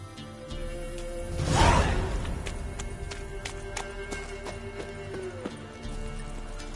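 Horse hooves gallop in The Witcher 3, a steady clip-clop running under game music and ambience, with a brief whooshing swell near the start and no talk over it.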